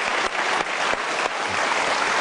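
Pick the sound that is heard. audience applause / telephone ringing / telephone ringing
audience applause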